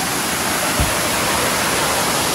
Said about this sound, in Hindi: जो आवाज़ आ रही है झरने की ना वो बहुत ही सुकून भरी सी है